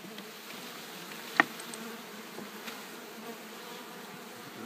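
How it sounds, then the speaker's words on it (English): Honeybees from a newly installed package fly around a top bar hive, making a faint, steady buzz with one brief sharp click partway through. "The rest are all flying all around us, all excited about what we're doing."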